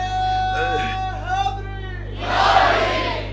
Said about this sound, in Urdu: سارے مل کے اگر نعرے کا جواب دو تو میرا بیان تازہ ہو جائے